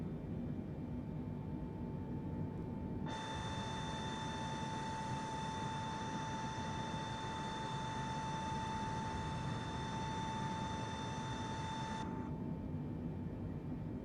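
Boeing 747 Shuttle Carrier Aircraft on its takeoff roll in Microsoft Flight Simulator 2024: a steady jet engine roar with a strong whining tone that holds through a long run down the runway, then fades back to a low rumble.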